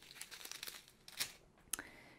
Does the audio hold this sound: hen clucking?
no